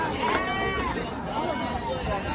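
A goat bleats with a wavering, drawn-out call, heard twice over steady background noise and chatter at the large goat market in Ghodegaon, Maharashtra.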